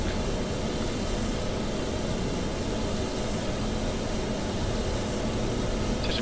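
A cargo plane's aircraft engine runs after start, with number three engine lit on a Dublin to Lisbon flight: a steady, unbroken roar and whine that fills the whole span at even loudness, with no voices.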